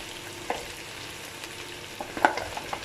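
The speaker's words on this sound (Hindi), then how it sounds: "इस दौरान मैं इसमें अपना चिकन ऐड कर रही हूँ जो हम लोगों ने फ्राई किया था" Fried chicken is stirred into a pan of spiced aloo gobhi masala, with a soft, steady sizzle and a few sharp spoon clinks against the pan at close range.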